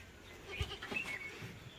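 A goat bleats once or twice at close range, short wavering calls over quiet outdoor background, with no talking.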